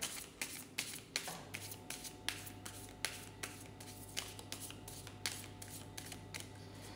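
A deck of cards is shuffled over and over, with crisp, regular riffling bursts and light snaps in a steady rhythm, close and fairly quiet, with no voices.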